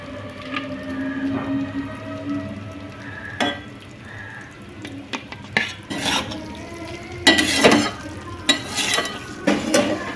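A spoon stirs apple snail (gugli) curry as it fries in a pan, giving wet squishing scrapes, soft sizzling and occasional clinks against the metal that come in uneven bursts.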